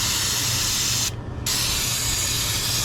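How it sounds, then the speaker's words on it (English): Aerosol spray blasts onto the rear brake of a 2018 Ford Transit 350HD, a loud close hiss that cuts out briefly and then resumes steadily. "Now I'm gonna go ahead and spray this part here."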